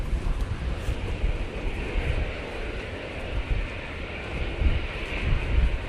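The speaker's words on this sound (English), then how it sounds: "Right, Etihad 777-300ER." An Etihad Boeing 777-300ER jet at Manchester Airport on a windy day gives a steady, broad roar of engine noise. It holds throughout, mixed with gusty wind buffeting the microphone, and no one speaks.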